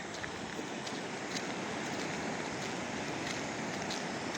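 Floodwater pours over a field embankment in a continuous broadband rush, steady and fairly loud, with wind noise and no talking.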